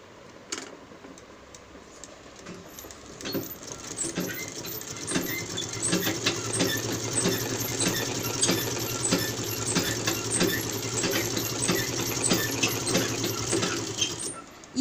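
A sewing machine stitching a side pocket onto a kurti, running in a steady rapid mechanical rattle with small ticks and clicks, close up and continuous for most of the fifteen seconds, with no talking.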